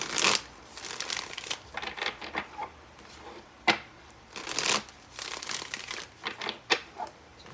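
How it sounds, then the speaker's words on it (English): A deck of tarot cards is shuffled by hand, giving repeated crisp riffling bursts and soft papery flicks in an irregular rhythm, close and clear with no talking. "Give it a few more shuffles."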